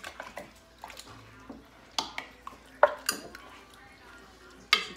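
A spoon stirs an ambrosia mixture in a bowl, making soft, wet, scattered scrapes and a few sharper clinks against the side, fairly quiet and with no talking over it.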